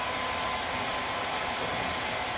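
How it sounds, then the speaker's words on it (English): A hair dryer blows steadily at close range to dry watercolor paint on an ice cream painting, a constant loud airy whoosh with no pauses and no voices. "make sure with the hairdryer you're pointing straight down"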